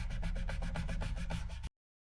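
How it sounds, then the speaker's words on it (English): A rag rubs warm water over a semi-hollow guitar body, a rapid rhythmic scrubbing of about a dozen back-and-forth strokes, close and fairly quiet, then stopping abruptly. "Just trying to rub around some of those more visible areas where we can see some glue."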